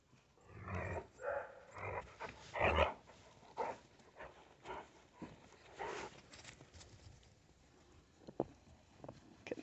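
Several dogs, among them pit bull puppies, romp and play in an outdoor pack, with scattered yelps, scuffling and bursts of panting that come and go over the whole stretch, fairly close and without talk.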